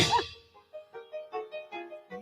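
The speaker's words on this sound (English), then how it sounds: "Somebody's ringing the doorbell." A doorbell chimes close and clear, a struck metallic tone followed by a series of short, evenly spaced ringing notes that decay quickly, with no talk.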